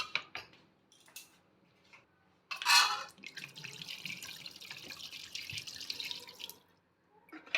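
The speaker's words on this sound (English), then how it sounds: "And we will add some water." Water pours and splashes into a pot of mutton curry with gravy paste for a few seconds, with soft clinks of utensils and dishes before and after.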